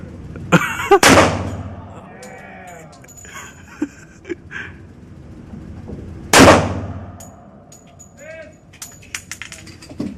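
Two sharp, loud handgun shots ring out at an outdoor shooting range, one near the start and another about five seconds later, each followed by a decaying echo, with faint metallic clinks and voices in between.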